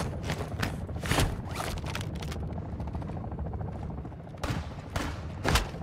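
Gunfire in Warzone 2 DMZ: several sharp, loud shots crack out at intervals over a constant rumbling background of combat ambience and engine noise.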